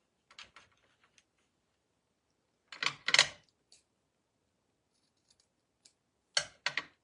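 Scissors snipping pieces in half, a few sharp, crisp cuts arriving in short clustered bursts separated by quiet pauses, close and fairly soft.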